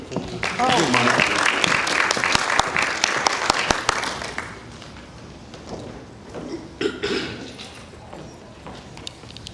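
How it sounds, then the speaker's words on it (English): Audience applause at a sustainability symposium, a dense burst of clapping loudest in the first few seconds, then thinning into scattered claps and crowd murmur. "a warm applause for Jolene"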